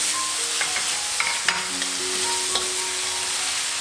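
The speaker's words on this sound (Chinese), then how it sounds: "适量的胡椒粉，大约翻炒几下" Tofu stir-fried with pepper in a hot pan for vegetarian mee goreng, a steady close sizzle with occasional light scraping of the spatula and no talking.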